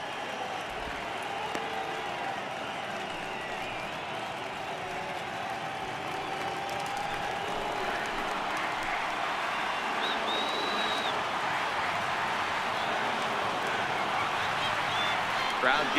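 Steady stadium crowd roar and cheering at a Red Sox home game against Texas in MLB The Show 18, rising slightly as fans get up for a full count, continuous and broad with commentary voices beneath.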